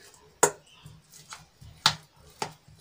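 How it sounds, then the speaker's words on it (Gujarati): A spoon mashes 500 grams of boiled potatoes for a sandwich filling, giving four sharp, close knocks and scrapes against the bowl, spaced unevenly and separated by quiet. "મેં અહીંયા 500 ગ્રામ બાફેલા બટેટા લઈ લીધા છે, એને આપણે ચમચાના વડે સરસ રીતે મેશ કરી લઈશું"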